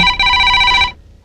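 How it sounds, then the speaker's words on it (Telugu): Telephone ringing with a loud electronic bell tone in two close bursts, the second held almost a second before stopping, with a brief noise starting again at the end. "ఫోన్ చూడండి."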